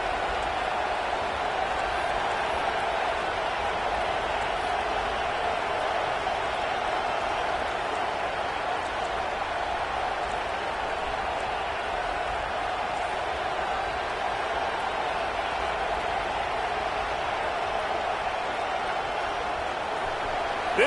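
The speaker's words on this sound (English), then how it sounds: "This crowd bringing the energy and noise early." Stadium crowd in a college football video game, a steady distant roar of fans droning evenly throughout without distinct claps or cheers.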